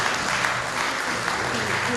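Steady, dense applause from a crowd at an Oath of Asclepius ceremony in Saint-Denis, Réunion, continuous clapping with no breaks throughout.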